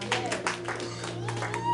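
A church congregation claps in scattered bursts for a short stretch, mixed with speech and a steady sustained tone underneath.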